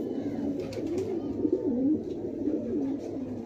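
A female pigeon coos in a steady run of soft, rolling, throaty calls, close and continuous over low background noise.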